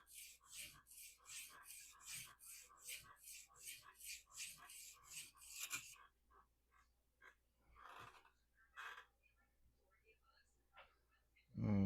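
Knife blade in AUS8 steel ground back and forth on an extra coarse ruby sharpening stone, a rapid run of even rasping strokes that stops partway, then scattered quieter scrapes and handling noise.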